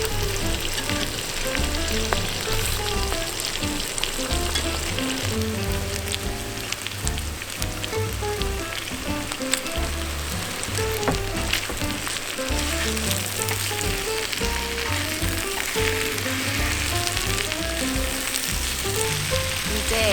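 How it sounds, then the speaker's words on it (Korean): Eggplant fries in a pan at a forest campsite, with steady loud sizzling and crackling that holds throughout, plus a patter that could be light rain on surfaces around it. "이제 여기에 가지를 넣어줍니다."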